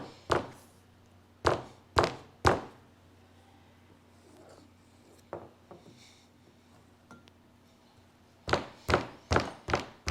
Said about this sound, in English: I'm going to start hitting this, and I'm going to start flattening it out into a flat object